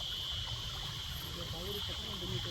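Water runs steadily in a small stream beside a hiking trail, a constant broad rushing wash at moderate, close volume with faint voices and footsteps under it.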